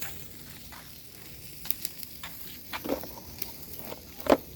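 Chicken and pork sizzle on a barbecue grill, a steady low crackling hiss broken by a few sharper pops and spits, one louder burst near the end, with no voices.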